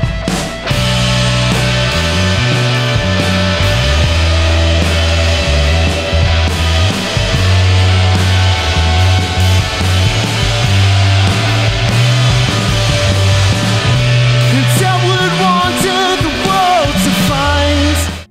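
A full band recorded with cheap Pyle microphones on the snare and two toms, running through a Behringer X-Air XR18 mixer used as an audio interface, plays loudly and steadily with drums, bass and harmonic instruments, with no talking.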